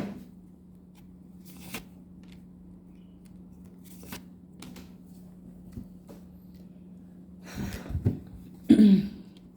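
Tarot cards shuffled and drawn by hand, soft sparse riffles and taps over a low steady hum, building to a louder rustling flurry near the end.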